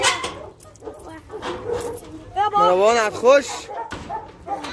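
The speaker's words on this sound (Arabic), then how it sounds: "امسك الكلب يا ابني" Dogs loose on a farm after escaping their cages bark and whimper in short yips and whines, mixed with close, excited talking from several people.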